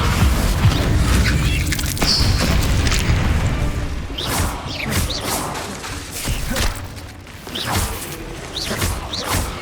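Confringo blast spells exploding in Hogwarts Legacy, a dense run of loud booming bursts and crashes with whooshing magic sounds, one blast after another at close range.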